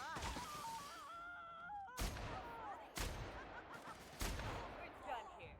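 Video game gunfire plays as sharp shots landing at about 2, 3 and 4.2 seconds, each followed by a decaying tail, under a busy backdrop of game music and sound effects.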